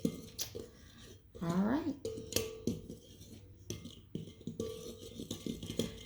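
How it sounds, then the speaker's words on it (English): A utensil scrapes and clinks against a bowl as gluten-free biscuit dough is stirred, making an irregular run of close knocks and scrapes, with a short spoken remark early on. "now I'm going to stir that up"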